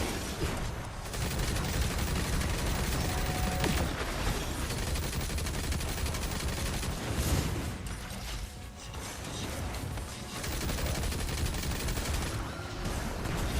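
A light machine gun in a video game fires long, dense bursts of rapid shots with mechanical clatter, loud and close and nearly continuous, with a few short breaks.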